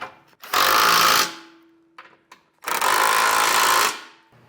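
Power tool with a 16mm socket snugging down base plate bolts on a 2021 Jeep Grand Cherokee, two loud close bursts of whirring rattle separated by a short pause with small clanks.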